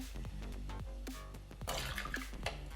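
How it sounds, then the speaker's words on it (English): Bombay dry gin pours from a bottle for a French 75 cocktail, a close, short gurgling glug with liquid splashes building toward the end, heard alone without talk. "There we go, so it's like a small pour of gin."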